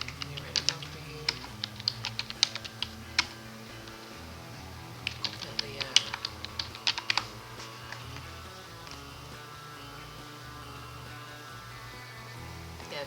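Fingers tap a computer keyboard in quick irregular bursts, clicks close and fairly quiet over a steady low hum, with pauses between short runs of keystrokes.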